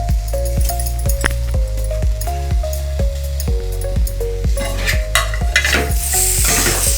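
Semolina sheera with bananas being stirred in a pan, a loud close run of rhythmic spoon scrapes and knocks against the metal over a low sizzle, steady throughout.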